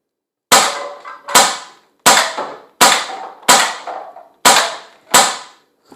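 A Rohm Twinmaster Trainer .177 CO2 pistol fires double action at bean cans about 10 metres away: seven sharp, loud pops at a steady pace, each with a quick second knock and a short ringing tail.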